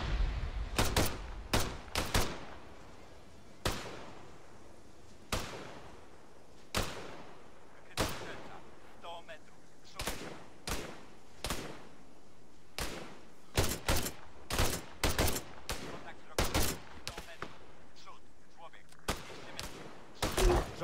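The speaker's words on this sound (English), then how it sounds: "Machine gun now." Machine gun fire in the video game ARMA 3, heard as sharp bursts and single cracks scattered irregularly across the stretch, some loud and clustered in quick rattles, others spaced apart, with faint talk in between.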